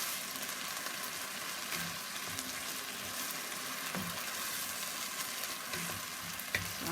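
Mushroom and spinach risotto is stirred in a fairly hot pan, giving a continuous close sizzle with scraping spoon strokes and an occasional light knock.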